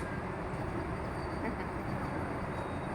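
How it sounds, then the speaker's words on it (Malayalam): A Vande Bharat express train rumbles past nearby, a steady loud roar of wheels and carriages that holds constant throughout. "ട്രെയിൻ പോകുന്നുണ്ട് വന്ദേ ഭാരത്"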